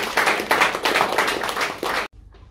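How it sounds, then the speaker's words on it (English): Brief burst of clapping from a club meeting audience after speeches, dense and steady for about two seconds before cutting off abruptly. "Big round of applause for both speakers."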